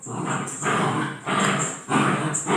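A dog barks and growls in bursts, several rough loud blasts separated by short pauses, close by indoors, with a steady high whine in the background and no speech.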